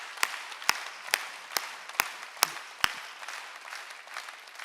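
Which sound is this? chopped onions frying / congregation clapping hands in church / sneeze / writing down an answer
congregation clapping hands in church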